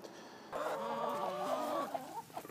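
Several chickens, hens kept on a farm and fed maggots, cluck and murmur close by in a steady, busy chatter that grows louder after a short quiet start and runs through the rest of the clip.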